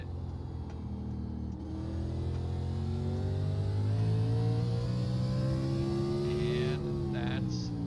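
A race car engine in the iRacing sim lapping the Martinsville oval, its steady, loud drone rising in pitch as the throttle is gently rolled back on, with a brief lift near the end.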